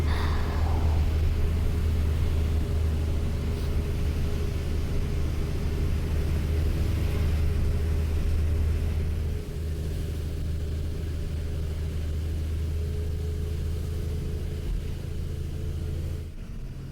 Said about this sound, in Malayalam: ബസ് സ്ലോയിലാണ് പോയിക്കൊണ്ടിരിക്കുന്നത്